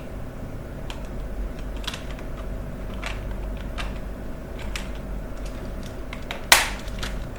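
Light typing on a wired computer keyboard: a steady run of soft, close key clicks with scattered sharper taps and one louder clack near the end, with no one speaking.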